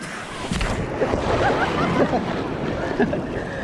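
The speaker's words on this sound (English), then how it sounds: "Oh, look at these big waves." Big ocean waves at Manhattan Beach surge and wash continuously, mixed with wind buffeting the microphone and some faint human voice sounds.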